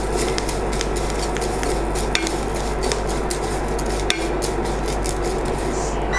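Vermicelli roasts in ghee in a pan while a utensil stirs and scrapes against the metal in a steady rhythm, with soft sizzling and occasional clinks, close and alone with no voices.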